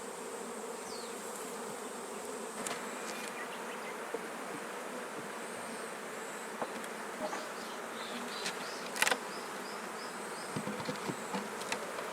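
Honey bees buzz continuously all around during a hive split at an apiary on Ōmishima, Japan, a dense droning swarm with occasional louder bees passing close.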